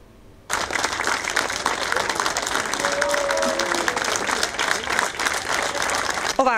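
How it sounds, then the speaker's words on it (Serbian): A crowd welcomes home tennis champion Marko Maksimović with loud, sustained applause that bursts in suddenly and keeps a dense, rattling clatter of many hands, with brief cheering tones mixed in. "Ovako su uz ovacije i aplauz do Bojlije dočekale šampiona Marka Maksimovića"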